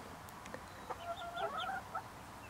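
Icelandic chickens give a few soft, faint clucks and short trills, somewhat distant over a low steady background hum, with no people talking.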